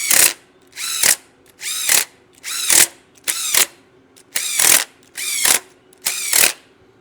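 A torque wrench ratchets as it tightens cylinder head bolts on an LT1 engine, giving eight evenly spaced, loud, close clicking pulls in a steady rhythm with no voices.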